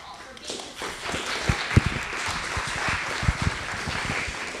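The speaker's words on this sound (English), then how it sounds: "we just really want to applaud them once again" A roundtable audience breaking into scattered applause: uneven, sparse claps with a few sharper hits, mixed with people talking in the room.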